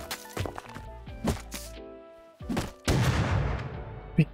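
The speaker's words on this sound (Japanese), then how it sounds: "あ、爆発音やっとなった。" Sudden blasts from an explosion in the video game Rust: several sharp booms early on, then a heavy burst with a rumbling tail near the end, over a sparse, quiet background.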